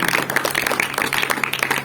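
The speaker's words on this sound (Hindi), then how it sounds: "एक बार जोरदार तालियां बजा करके उन वेद शास्त्रों का अभिनंदन करेंगे" Audience at a 15 August Independence Day program claps hard for about two seconds: a dense, steady patter of many hands, loud and close, with no talking over it.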